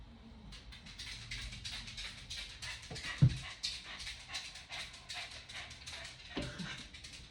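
A dog panting right after coming in from outdoors, with soft rapid breaths repeating steadily throughout, close to the microphone, along with a few faint taps and a brief thump partway through.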